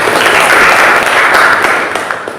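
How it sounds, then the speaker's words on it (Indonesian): Applause fills a classroom, a dense, steady wash of many hands clapping together at fairly high volume that tapers slightly near the end. "tepuk tangan untuk sekalian semua"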